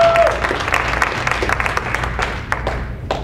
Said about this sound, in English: So please, give a round of applause to Keith Turner.